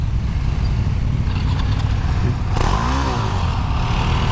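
KTM 390 Duke motorcycle on a test ride, its single-cylinder engine running steadily close by, with a rising tone partway through as it revs and accelerates, no talk over it.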